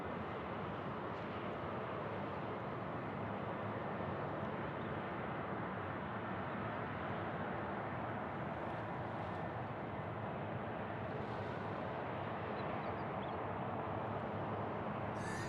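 A jet airliner on its takeoff run at Sydney Airport, a steady, loud broadband engine roar that holds evenly throughout with no talk over it.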